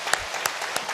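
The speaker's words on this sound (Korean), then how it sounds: "우리 한번 박수로 축하할까요?" A church congregation claps steadily, a room full of people applauding with a few sharper claps standing out.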